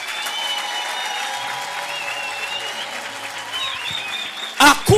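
Applause from a church congregation during a prayer sermon, an even rattle of many hands clapping with a few voices calling out, ending in two sharp loud bursts close by.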